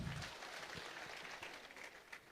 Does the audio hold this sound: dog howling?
no